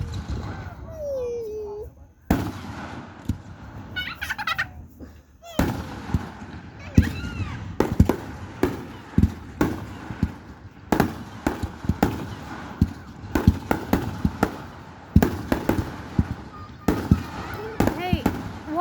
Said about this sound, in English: Hey, watch the fireworks.